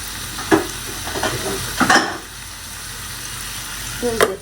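Onions frying in a small kadai for a fish curry, a steady close sizzle broken by a few sharp scrapes and knocks of a spoon against the pan.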